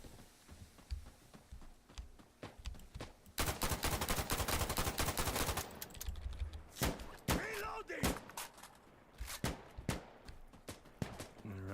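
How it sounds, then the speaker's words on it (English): Grenades exploding in a video game shooter, a dense run of loud sharp blasts and gunfire-like bangs that turns into a near-continuous barrage mid-clip, followed by scattered separate explosions, with occasional faint voice underneath. "Already getting grenades thrown at us."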